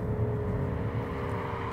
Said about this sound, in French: quand on se met en mode sport, ça change la sonorité moteur